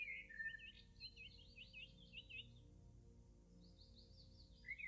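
Spring birdsong fills the air: several bright, twittering chirps and trills repeat in quick bursts, fading for a moment before another bird picks up again, moderately close over a soft steady outdoor hush.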